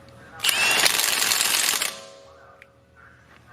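Milwaukee stubby impact wrench hammering a bolt loose in one loud, dense burst of rattling impacts lasting over a second, then winding down to a quiet clink.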